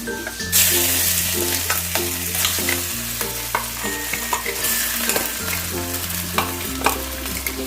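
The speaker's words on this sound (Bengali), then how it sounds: "তেলটা গরম হয়ে গেছে এবার আমি দিয়ে দিলাম কালো জিরে ফোড়ন ফোড়নটা আমার একটু ভালো করে ভেজে নিলাম এবার আমি মানটাকে দিয়ে দিচ্ছি" Giant taro paste frying in hot oil with black cumin seeds, a steady close sizzle with repeated spatula scrapes and stirring knocks against the pan, no voices.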